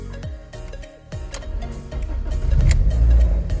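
BMW E30 engine turning over on its starter motor, a few low chugging cranks that build into a rising, rumbling catch, close and loud with no talking.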